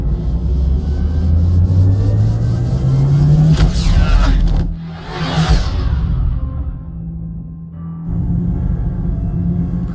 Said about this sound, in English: Activate the drive and I will open the airlocks as we accelerate.